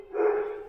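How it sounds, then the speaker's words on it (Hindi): A neighbours' dog gives a single short bark, heard faintly at a distance. "ये हमारे नेबर्स का डॉगी है जो बहुत भौंकता रहता है"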